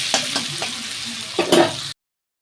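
Chopped onion and green chilli fry in oil in a pan, a steady sizzle broken by a few scraping stirs and a louder clatter of the spatula near the end before it cuts off.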